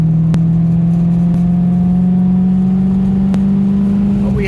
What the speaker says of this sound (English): the Fab Speed exhaust here helps and accentuates the sound, but even the standard Maserati Spyders sound really, really nice